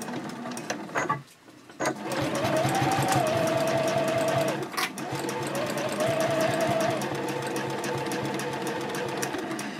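A sewing machine stitches a zipper onto an Elaine pouch at stitch length 3.0 with an eighth-inch seam allowance, its needle chattering in loud steady runs broken by a brief pause and a backstitch.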